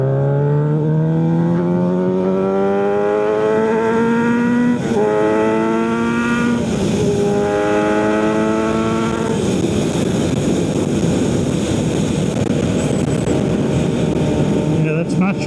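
A Kawasaki Z900RS motorcycle with a Wirus Win slip-on exhaust fitted with its baffle, revving loud and close as it pulls up through the gears in rising sweeps, then dropping into a rough, rumbling overrun.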